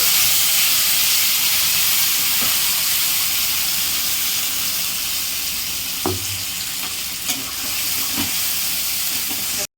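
Onion, ginger and garlic paste frying in hot oil with bay leaves while cooking a rohu fish curry, giving a steady close sizzle and hiss throughout, with a few soft clinks of stirring.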